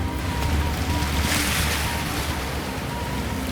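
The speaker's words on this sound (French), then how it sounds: "Le vent est de plus en plus fort." Strong wind and waves at sea during an outdoor endurance challenge on a competition island, a dense continuous roar of gusts and surf, loud and close throughout with no clear speech.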